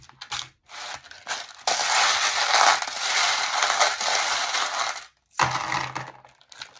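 Charms, or breloques, are shaken and scattered for a reading: a loud, sustained metallic clinking and rattling, close, with short silent gaps before and after.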